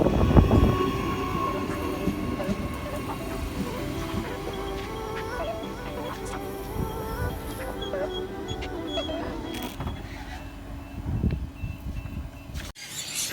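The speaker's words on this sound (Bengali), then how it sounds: "এই তো আমাদের ট্রেনটা চলে এসছে।" A train pulls into a station in Adelaide, Australia, its rumbling wheels and rail noise steady and fairly loud throughout, with faint squeals and clanks, and a sharp thump near the end.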